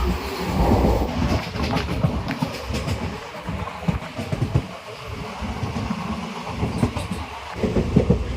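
A train rumbles steadily along the rails with rhythmic clattering and occasional metallic knocks, heard from inside a moving carriage.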